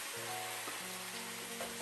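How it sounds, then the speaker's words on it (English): Pork sizzling in a hot frying pan, a steady crackling hiss with a few soft scrapes of stirring, fairly quiet and close. "now we're going to put the pork in"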